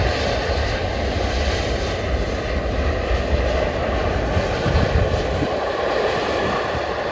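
A KLM Embraer 175 lands at Manchester Airport, its engines producing a steady, loud broadband roar and whine that holds throughout with no gaps.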